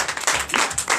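Church congregation applauding during a Sunday worship service in Benin, a short burst of crowd clapping with uneven swells, fairly close and filling the room.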